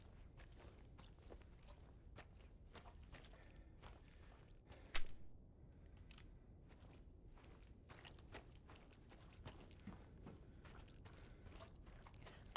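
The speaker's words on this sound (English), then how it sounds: "I swear I'm hearing a sound like footsteps." Footsteps in the Silent Hill video game, faint and steady soft thuds and scuffs repeating through a quiet, low ambient rumble, with one sharper knock partway through and no talk.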